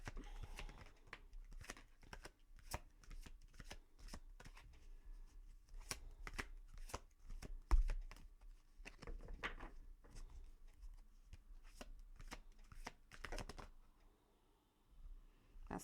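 Tarot cards are shuffled in a quiet room during a reading, a run of soft, rapid riffling bursts and taps repeating close and faint, with no talk over them.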